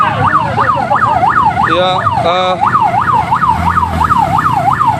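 An ambulance siren wails loudly and steadily in a rising-falling pattern as it passes a roadside street protest over a damaged provincial road in Simalungun, with a brief burst of horn-like tones and traffic rumble beneath.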